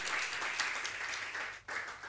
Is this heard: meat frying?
no